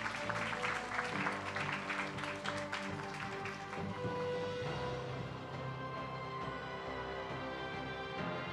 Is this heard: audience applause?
yes